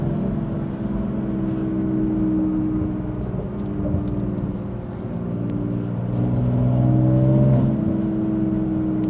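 A 2020 BMW M4 Competition with a Stage 2 tune pulls hard from inside the cabin, its engine note droning and rising steadily as it accelerates, with no voices over it.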